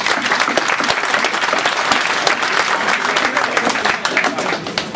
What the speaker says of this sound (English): So a big, big round of applause again for Tom Middleton.